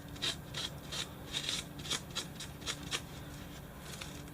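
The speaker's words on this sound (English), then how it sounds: "water your black down, and that'll make it a whole lot easier to rub off and really get in the cracks there" Watered-down black paint gets rubbed into the cracks of a styrofoam horn, making a soft, quiet, rhythmic scrubbing with repeated brisk strokes at close range.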